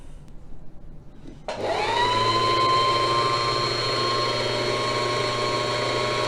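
A home sewing machine starts up and winds the bobbin, a steady loud mechanical whir with a sustained motor whine that holds evenly after a quieter start with small handling noises.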